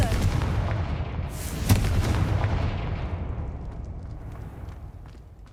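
The Confringo fire spell exploding in the Hogwarts Legacy video game, a loud, broad rumbling blast with a sharp crack near its peak, then a long, slowly fading roar that tails off over several seconds.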